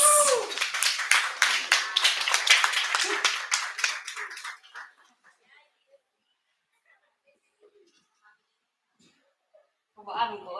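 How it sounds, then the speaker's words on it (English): Wedding guests clap together in a burst of applause lasting several seconds, dense and close, then it fades to near silence with a few faint scattered sounds before a voice briefly starts again. "A round of applause."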